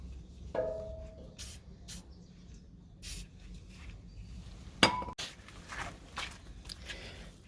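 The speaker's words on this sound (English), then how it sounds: "Then I'm going to get the hammer or the mallet." A hammer or mallet strikes the exhaust joint of a 1977 C3 Corvette, giving a sharp metallic clank near the middle that stands out against quiet garage background with a few softer knocks.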